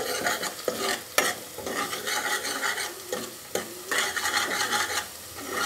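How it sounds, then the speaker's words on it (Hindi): A tikka macaroni mixture with garlic paste is stirred in a pan, steady scraping and rubbing strokes over a soft frying sizzle, with occasional sharper clinks of the utensil against the metal. "ऐड करने के बाद हम इसको यहाँ पे अच्छे तरीके से चला लेंगे"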